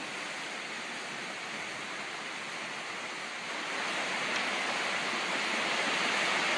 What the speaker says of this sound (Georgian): მოსულმა კოკისპირულმა წვიმამ მტკვრის ადიდება გამოიწვია და მდინარე კალაპოტიდან გადმოვიდა